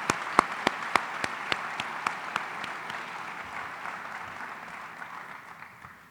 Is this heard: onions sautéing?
no